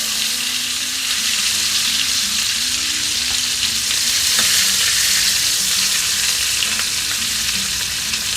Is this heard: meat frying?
yes